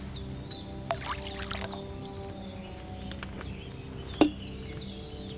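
Wine poured into a cauldron in Kingdom Come: Deliverance II, a soft, steady liquid trickle beneath a quiet game ambience with faint bird chirps and one sharp clink near the end.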